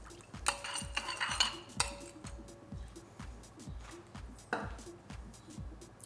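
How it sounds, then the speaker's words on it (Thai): Lime juice, pickled garlic juice and pork stock sauce mixed in a bowl for a spicy fried golden needle mushroom salad, with steady rhythmic utensil scraping and clinks against the dish, close by, a few sharper knocks standing out. "คลุกเคล้าทุกอย่างละลายเข้ากันดีก่อนนะครับ"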